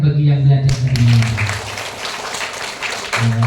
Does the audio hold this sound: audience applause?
yes